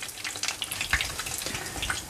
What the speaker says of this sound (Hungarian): Nagyon alacsony hőfokon van, szépen sülöget.